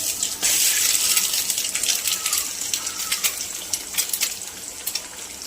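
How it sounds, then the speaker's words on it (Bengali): Two eggs fry in onion-flavored oil in a home kitchen pan, giving a steady, close sizzle with bright crackling pops that fade a little toward the end. "পেঁয়াজের তেলে আমি দুটো ডিম অ্যাড করব।"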